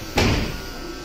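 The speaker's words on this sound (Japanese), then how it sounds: "扉が閉まって開いてフェイントをかけて" Train doors at Nishi-Akashi station platform close with a single sharp thump, followed by a brief fading rattle and quiet platform ambience.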